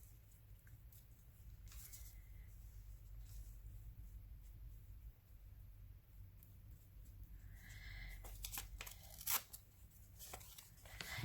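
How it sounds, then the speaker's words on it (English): Paper being torn by hand for a collage, with ragged rips and crinkles coming in irregular bursts over a steady low background hum; the tearing grows denser toward the end. "I just want to have fun tearing"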